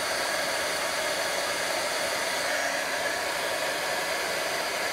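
A heat tool blows hot air to emboss Stampin' Up classic ink on a rubber-stamped card, a steady loud hair-dryer-like whoosh running unbroken throughout with no voices.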